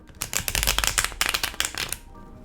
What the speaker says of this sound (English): So I begin to shuffle, and I do my regular shuffle,